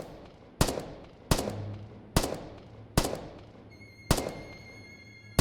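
Five heavy single shots from a G3 battle rifle firing tracers in the shooter game Afterconflict, each a sharp, loud crack with a decaying tail, spaced evenly about three-quarters of a second apart, with a faint high tone entering toward the end.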